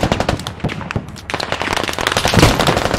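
Dense, loud gunfire in the military shooter Squad: rapid crackling bursts and overlapping shots pour out continuously at close range with almost no pause.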